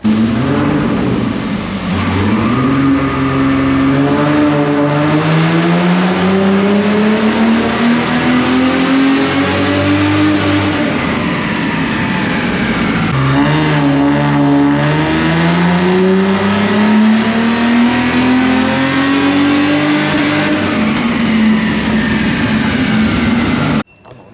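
Toyota Corona drift wagon with an L67 engine revving on a dynamometer, loud and close, making two long rising pulls whose pitch climbs steadily before dropping back between runs.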